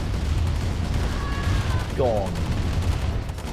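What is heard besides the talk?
bikes firing on tanks in Command & Conquer: Tiberian Dawn video game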